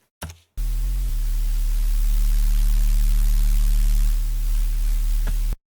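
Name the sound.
tube distortion or saturation applied to layered sounds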